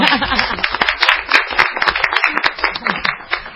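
Applause in a radio studio from a few people, close, uneven clapping with distinct individual claps over several seconds, not a large crowd.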